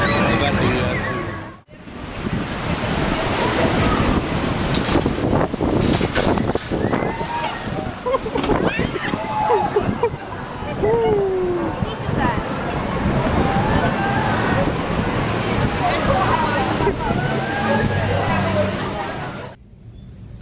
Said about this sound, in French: Le vent et les vagues ne laissent pas de répit en mer du Nord.